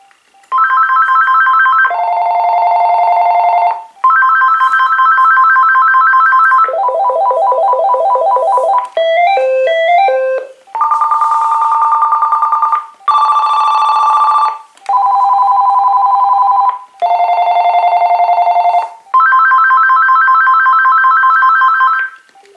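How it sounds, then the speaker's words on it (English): An AT&T SynJ SB67118 telephone plays a run of electronic ringtones, loud and up close, each a few seconds long with short gaps between, some steady warbles and some quick stepped melodies, with no talk. "now let's go ahead and check out the ringtones"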